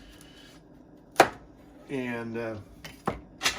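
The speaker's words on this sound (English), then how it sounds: "we're just dicing up the potato" Knife dicing potato on a cutting board during pot roast prep: a few sharp, separate chops, one alone and two close together near the end, with a brief spoken word between them.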